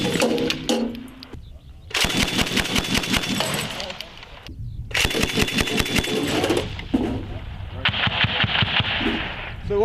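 Machine gun firing repeated sustained bursts during a U.S. Marines live-fire exercise at Camp Fuji, Japan, loud and rapid with brief pauses between strings of shots.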